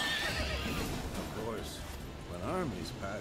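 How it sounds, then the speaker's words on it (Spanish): A horse in The Witcher 3 video game neighs loudly in a rising-falling whinny, heard twice over game ambience, with hoof clatter mixed in. "¡Caballo!"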